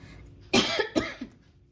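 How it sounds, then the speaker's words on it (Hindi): A person's coughing fit: two sharp, close coughs in quick succession, followed by a softer trailing cough, with no talk over them. "पता नहीं मुझे खांसी क्यों आ रही है"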